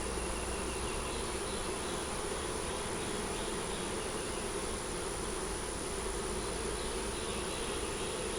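Honeybees hum at an opened hive during an inspection, a dense, continuous, fairly faint buzz of many insects with no voices.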